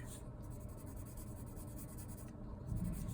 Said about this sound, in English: I might use my pencil to do the shading.